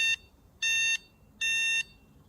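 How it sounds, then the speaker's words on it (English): Electric horn on a FIIDO D11 e-bike, a bright electronic beep sounding in two clear, evenly spaced bursts after the tail of an earlier one, close and loud over quiet background. "We also have a dedicated switch for the light and the horn, which sounds like this."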